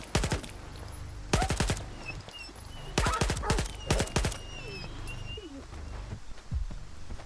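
Automatic gunfire from S.T.A.L.K.E.R. 2 rattles in several sharp bursts, separated by pauses in which faint ambient game sounds and cooing birds can be heard.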